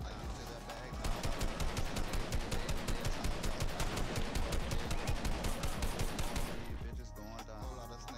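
Rapid automatic gunfire from the video game Fortnite, aimed at the player: a loud, sustained burst of closely spaced shots lasting several seconds before it cuts off.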